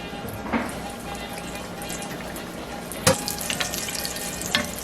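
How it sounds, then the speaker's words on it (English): Puerto Rican potato fritters, relleno de papa, frying in hot oil: a continuous soft bubbling sizzle with a couple of sharper pops and clatters, close by, no voices over it. "We're going to fry it, and we're going to show you what it looks like when it's fried."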